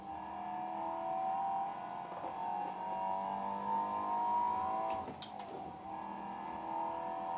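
A car engine in a driving video game, played with a Logitech Driving Force GT wheel, holds a steady droning note, swells as the throttle is pressed, and briefly shifts pitch with a short clatter near the end.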